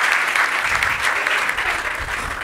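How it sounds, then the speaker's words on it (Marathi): An audience applauds the teachers of Prabhat at a school gathering. The clapping is loud, dense and sustained, with no breaks, and there is a faint murmur of crowd voices. "प्रभातच्या सर्व गुरुजनांसाठी आपण जोरदार टाळ्या वाजवल्या पाहिजेत."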